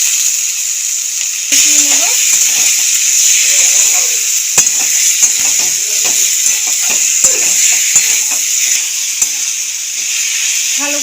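Diced potatoes and boiled, drained figs sizzle steadily in hot spiced oil, a continuous close frying hiss with scattered crackles and soft stirring clicks throughout.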